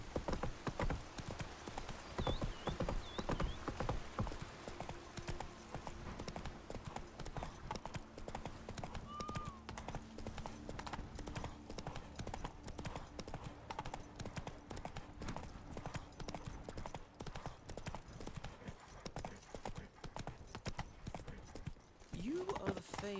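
Roach, Geralt's horse in The Witcher 3, gallops with a fast, steady, close clip-clop of hooves throughout, joined by a brief whinny near the end.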